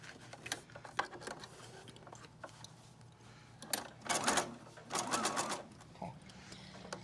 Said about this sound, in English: I'm gonna go over this again. Back stitch.